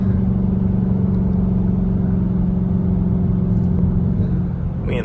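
A straight-piped Chrysler 300 engine downshifts and revs on a drive, producing a loud, continuous, close low rumble that holds steady and eases slightly at the end.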